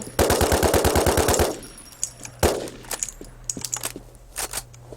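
Rapid automatic gunfire burst from the video game WarZ, about a dozen loud close shots in quick rhythm, followed by a single heavy shot and scattered quieter clicks and crackles.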